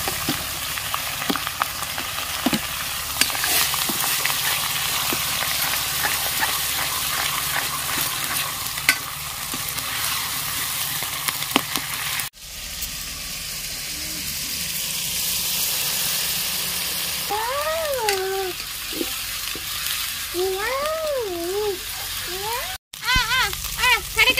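Tomato, onion and potato fry for a village chicken curry, with steady sizzling and the scrape of stirring throughout, later joined by a whistling tone, while a person talks over it.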